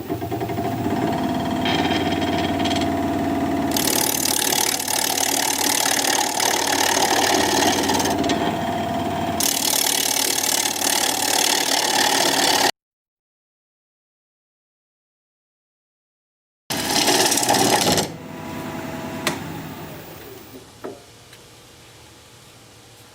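Wood lathe turning weathered mountain mahogany while cutting a tenon, a loud continuous whirring hum with rough scraping tool noise, stopping abruptly, then resuming briefly before winding down.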